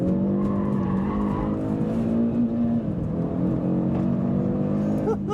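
2024 Audi RS3 oversteering with tires squealing, a loud close engine note under a sustained tire screech that wavers in pitch, no talk.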